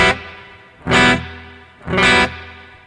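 Two separate bursts of a bright, distorted sound, each sustained for about a third of a second, with a bright reverb tail set to high damping values that rings out and fades between them.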